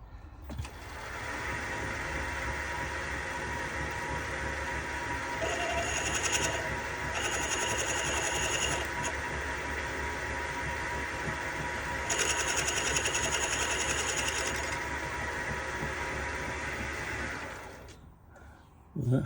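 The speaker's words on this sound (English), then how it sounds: "I've taken the drill into this edge here" An electric drill runs steadily into the metal edge of a steam tram boiler part for about eighteen seconds, its whine continuous with slight shifts in pitch, then stops.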